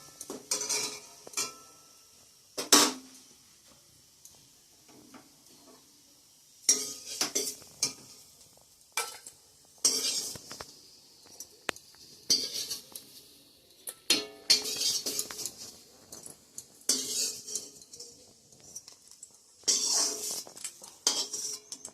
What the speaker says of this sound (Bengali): আলু কাঁচকলা একসাথে ভাজাটা হয়ে গিয়েছে এখন নামিয়ে নেব